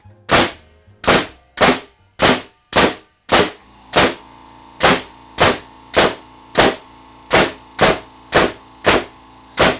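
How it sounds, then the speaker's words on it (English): A framing nail gun driven by a Rolair JC10 oil-less 2.5-gallon air compressor fires nail after nail, sharp loud cracks in a steady rhythm of about fifteen shots, with a faint compressor hum between some of them. "We're going to try it out with our framing gun and see how many shots"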